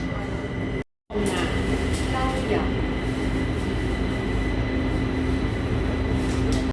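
A train in Taiwan rumbles along with a steady, loud, droning hum, briefly cut to silence near the start before the continuous noise resumes.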